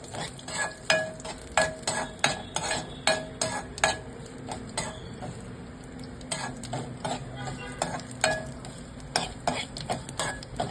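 Dry fruits and poppy seeds roasting in ghee for modak filling, with a steady close sizzle and repeated sharp clinks and scrapes of a spoon stirring against the pan in an uneven rhythm, no talking.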